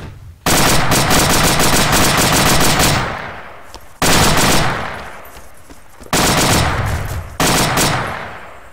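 Loud, close bursts of automatic gunfire in the game Falling Skies: one long rattling volley followed by three shorter bursts, each tailing off into echo between them.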